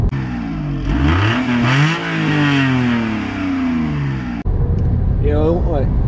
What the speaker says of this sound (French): le bruit de la voiture